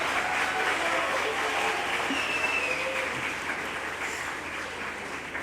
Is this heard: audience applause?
yes